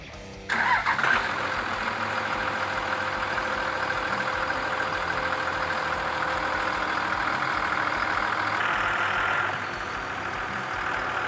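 A Dodge Ram 3500 pickup's engine cranks and catches near the start, then settles into a steady, loud idle that runs on for about nine seconds before dropping off, with no talking.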